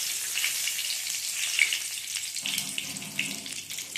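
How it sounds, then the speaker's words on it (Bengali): Whole garam masala, cumin seeds and bay leaf crackle and sizzle steadily in hot oil, a close, continuous frying hiss with faint scraping near the end and no talking. "এবার এটাকে একটুখানি ভাজা ভাজা করে নেব"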